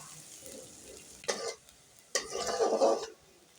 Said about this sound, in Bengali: পেঁয়াজটা বাদামি কালার আসার পর্যন্ত আমি লো টু মিডিয়াম ফ্লেমে ভেজে নেব